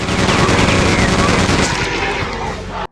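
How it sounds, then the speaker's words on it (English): Rapid, layered chain gun fire from the Quake II video game rattles loudly and continuously for nearly three seconds before cutting off abruptly. "the sound effects of the layering machine gun fire that happen make it sound extremely satisfying"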